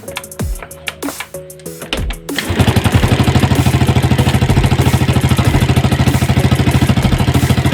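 A Yamaha Jupiter Z motorcycle with a dead ignition and drained battery cranks with a few sputtering attempts, then catches and settles into a loud, steady, rapid idle putter, close up.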